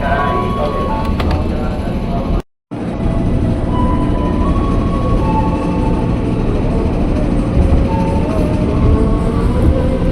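A KRL commuter train hums and rumbles steadily as it pulls away from a station in Indonesia, with a brief cutoff partway through and a faint tonal whine over the continuous rolling noise.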